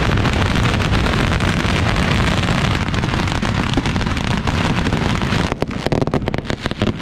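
Firecrackers and whistling rockets explode in a dense, relentless barrage at the Yanshui Beehive Festival, a loud roaring wall of bangs and crackle with sharper individual blasts toward the end.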